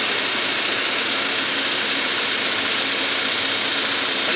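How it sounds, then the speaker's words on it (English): HGV inspection shaker plates drive a heavy goods vehicle backwards and forwards, giving a loud, steady mechanical rumble with vibration that holds without a break. "I'm going to make the plates move backwards and forwards"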